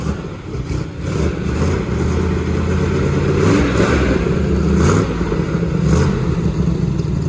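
An old Chevy car, a 1957 Chevy or 1961 Corvette running on bad gas, roars steadily with a loud, rough, rumbling engine note held close throughout, with no talk.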